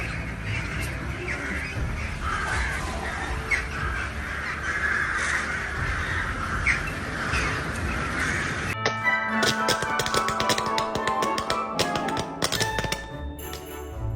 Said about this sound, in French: une grande quantité de corbeaux a été repérée au terminal 3 à Shenyang, en Chine